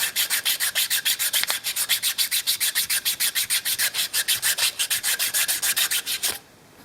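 A G10 knife handle sanded in quick back-and-forth shoe-polishing strokes, a close, steady rasping pulse of about six strokes per second that runs evenly and then stops abruptly.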